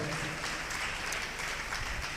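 Steady clapping from a church congregation during a sermon on fasting, a dense, continuous wash of hand claps filling the whole moment at moderate level with no voices over it.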